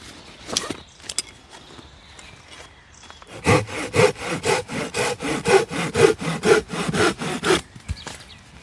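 Steady back-and-forth sawing through wood, about a dozen rhythmic strokes, close and loud, after a few scattered knocks and rustles.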